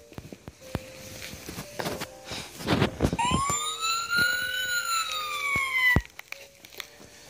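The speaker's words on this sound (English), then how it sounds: "Some emergency vehicles have sirens that make loud noises." Emergency vehicle siren from a children's sound book, a single rising-and-falling electronic wail lasting about three seconds, loud and close, with page handling and soft rustles around it.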